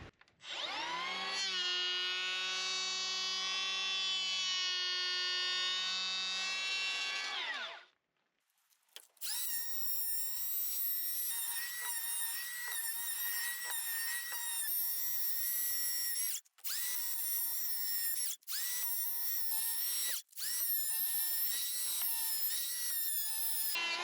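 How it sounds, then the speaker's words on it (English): A power planer running passes along a timber rafter down to the OSB sheathing: a long loud whining tone, a brief pause, then continuous harsh cutting with a few short drops, close and dominant. "You see that I've planed all the way down to the line there"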